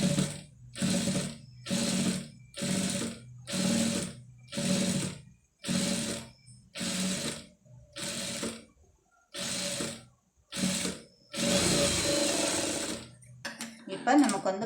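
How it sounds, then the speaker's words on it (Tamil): A sewing machine stitches invisible thread piping onto a neckline in about ten short bursts of rapid mechanical whirring, then one longer run, close and clear with pauses between. "இப்போ கரெக்டாக அந்த ஒட்டுலேயே வந்து தையல் போட்டுடலாம்."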